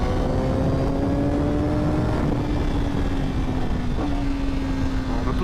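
A 2024 Honda Fireblade engine on the road, a continuous revving drone with a falling then rising pitch as the auto-blipper downshifts, under heavy wind rush.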